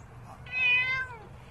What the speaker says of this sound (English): It's a wild cat, maybe.